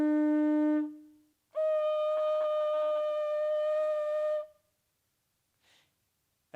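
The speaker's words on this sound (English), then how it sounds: "shell trumpets. They sound like this." Ancient Strombus shell trumpets from Chavín de Huántar, Peru, blown in two sustained hollow, horn-like blasts, the first lower and shorter, the second higher and longer, with a brief faint puff after.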